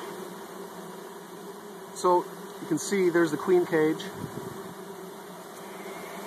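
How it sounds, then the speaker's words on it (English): Honey bees swarm and hum around a disturbed beehive during a bee installation with a queen cage, a steady insect drone underlying a person talking up close. "What's it like to be standing next to a disturbed beehive?"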